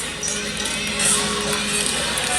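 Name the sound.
teammates cheering a gymnast from the sideline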